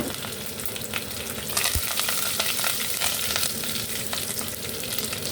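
Cumin, fennel and curry leaves sizzle in hot oil with a dense, loud, continuous crackling hiss, punctuated by sharper pops and a brief stirring knock, close by.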